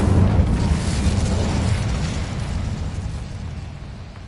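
Incendio fire spell cast in Hogwarts Legacy, a loud, sustained fiery burst that roars at full strength from the start and slowly tails off over several seconds, with no voices.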